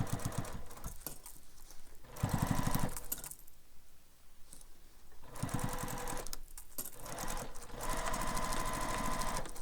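A sewing machine stitches through a wallet held with clips, running in rapid mechanical bursts broken by short pauses, the rhythmic clatter loud and close.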